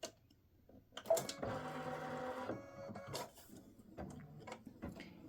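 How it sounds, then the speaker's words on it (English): A home embroidery machine stitches an edge-to-edge quilting design of hummingbirds and hibiscus, running in short mechanical bursts of whirring and rapid needle clicks separated by quieter pauses, close and fairly soft. "So I'm going to stitch the first rectangle."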